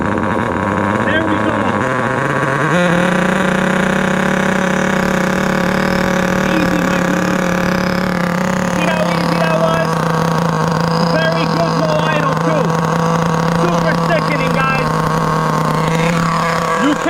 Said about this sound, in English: It can idle like this as long as you want.